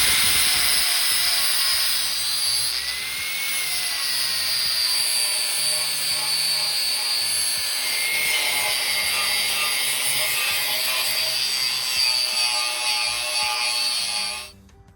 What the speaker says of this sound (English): I'm just gonna take the angle grinder and take off some of that heel